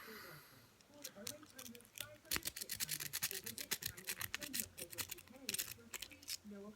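A lock being raked with a pick and tension wrench gives dense, scratchy metallic clicking and scraping, close up and fairly quiet, with rapid irregular bursts that build and continue throughout.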